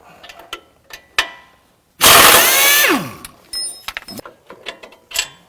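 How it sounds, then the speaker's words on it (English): A power tool whirs in a loud burst about a second long, then winds down while working a 19mm bottom shock bolt and nut free during a Lexus GX/Toyota 4Runner suspension install. Sparse metallic clicks and taps come before and after it. "now we got to get this bottom shock bolt out. It's a 19mm nut and a 19mm bolt"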